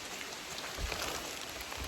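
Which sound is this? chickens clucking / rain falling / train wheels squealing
rain falling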